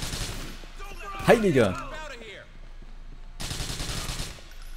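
Gunfire in the Grand Theft Auto IV video game, bursts of rapid shots at the start and end with a man exclaiming in German in between.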